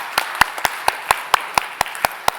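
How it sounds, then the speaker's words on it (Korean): A church congregation claps during a Thanksgiving Sunday worship service, about ten crisp, evenly spaced claps in a steady rhythm over a couple of seconds, fairly close and clear with no talking over them. "정말 박수 치고 싶어요."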